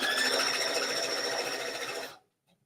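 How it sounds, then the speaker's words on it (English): Sewing machine stitching a single straight seam for a craft project, a fast, steady, close mechanical whirr that runs for about two seconds and then stops abruptly. "All right, so let's just sew a straight line."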